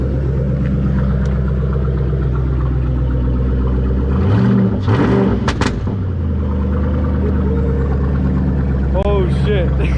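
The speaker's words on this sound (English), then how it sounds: "Here, I'll rev it up." A cold car fitted with longtube headers and no muffler rumbles at idle, then its engine is revved hard in a short burst and falls back to a loud, throaty idle.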